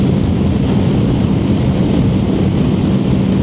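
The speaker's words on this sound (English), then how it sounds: "A lot of wind noise until you get down behind the screen" Steady, loud broadband wind roar from riding a Honda VFR 1200 motorcycle at speed, a continuous rush with engine rumble underneath and no voices.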